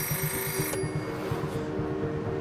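A telephone ringing close by with a steady electronic trill that repeats in rapid pulses, alone with no voices.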